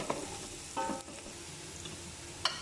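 Garlic sautéing in a pan for beef bukari gives a soft, steady sizzle, with a few brief stirring scrapes and clinks of a utensil against the pan. No one speaks.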